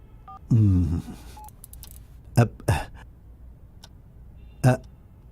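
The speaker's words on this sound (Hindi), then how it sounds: "उस विदेशी लड़की को फोन करता हूं। अभी करता हूं।" A few short dialing tones from a phone keypad, spaced apart, following a brief burst of a voice and ringing-like tones at the start.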